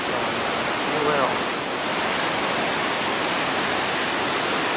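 Fast-flowing Colorado River rushing beneath a suspension bridge in the Grand Canyon, a broad continuous roar of water, steady and loud, with a brief faint voice early on.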